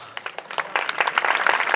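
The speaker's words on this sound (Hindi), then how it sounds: "आपकी भरपूर तालियों में वहाब खान" An audience applauds host Wahab Khan at a college welcome party at Punjab College, Hujra Shah Muqeem campus. Scattered claps build quickly into fuller, continuous applause over less than two seconds.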